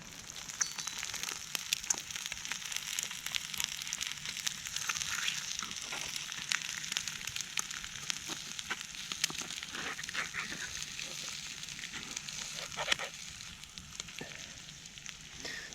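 An egg frying in a pan gives a steady, fairly quiet sizzle and crackle throughout, with scattered small pops and faint clinks.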